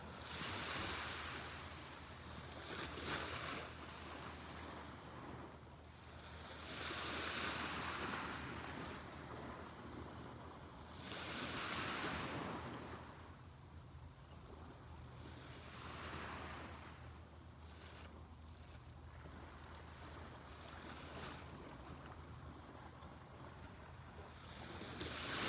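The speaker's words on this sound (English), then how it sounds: "soak in the sounds of the waves" Ocean waves break on a beach at sunrise in slow recurring surges, each swelling and fading over several seconds, with wind buffeting the microphone throughout.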